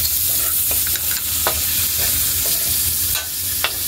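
Pork bistek stirred in a hot pan, a loud steady sizzle broken by the scrape and clack of a utensil against the metal, heard close with no talking.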